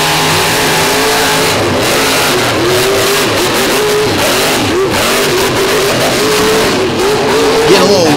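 Monster truck engines revving hard during a race at a monster truck show, a loud continuous roar with rising and falling throttle swells and crowd noise beneath, heard from the stands.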